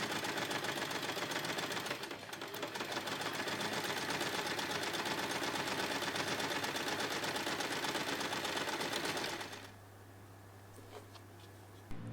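A sewing machine top stitches the edge of a fabric phone pouch in a fast, even needle chatter for about nine seconds, then stops, leaving a low motor hum.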